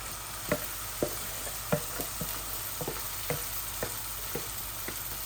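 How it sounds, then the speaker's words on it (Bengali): Marinated mirga fish fries in a pan with fresh mustard paste, a soft steady sizzle under a series of light, evenly spaced scraping and stirring knocks from a utensil, close and fairly quiet. "এখন দেখুন আমি মাছগুলা ঢেলে দিচ্ছি।"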